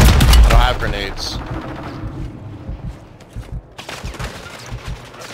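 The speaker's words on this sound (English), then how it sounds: "They're on prison shooting at us." Enemies fire on the player in a first-person shooter, beginning with a loud close burst of automatic gunfire and easing into scattered quieter shots and game noise.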